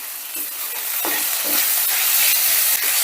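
Ginger-garlic paste being stirred into onions in a frying pan, a spoon scraping through the mixture in a few soft strokes over a steady sizzle.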